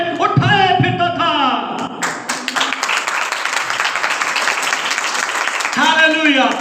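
A church congregation breaks into a burst of clapping and cheering during a Hindi-language sermon. The applause swells loudly and steadily for several seconds between stretches of the preacher's speech.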